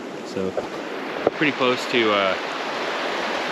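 Steady broadband rush of river water flowing close to a snowy winter hammock campsite, continuous throughout while someone talks briefly over it.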